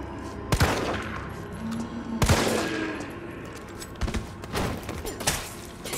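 Gunfire in Resident Evil 3 Remake during PS4 Pro demo gameplay: three sharp, loud shots spaced a second or two apart, then a ragged cluster of quicker reports near the end.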